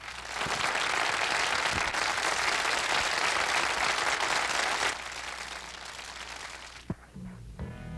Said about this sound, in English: Let's have a round of applause for Nancy Hand.